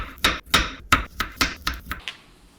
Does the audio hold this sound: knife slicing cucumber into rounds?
yes